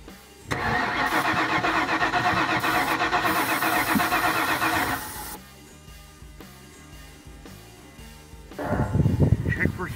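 The engine of a 1996 Ford F-250 4x4 pickup cranks with a loud, rhythmic starter churn lasting several seconds and then cuts off, followed by quieter clicks and a second brief burst of cranking.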